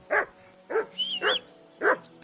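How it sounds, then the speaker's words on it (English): Dog barking in Kingdom Come: Deliverance II, four sharp barks at a steady rhythm, fairly close and loud, with a brief high whistle-like tone between the middle barks. "Whistle at that mutt of yours to stop barking."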